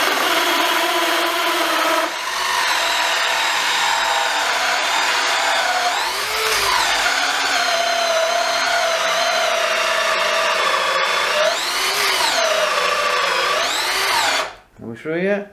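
A Bosch GSB 18V-60 C cordless drill in second gear whines loudly and continuously as a core bit cuts through wood, pitch dipping briefly under load before the motor stops near the end.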